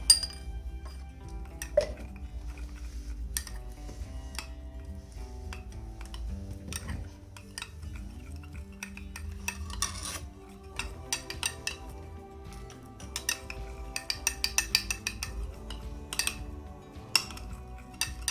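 A spoon mixing honey and lemon juice in a small dish, light repeated clinks and taps of metal against the dish, quiet and close, with a low steady hum beneath.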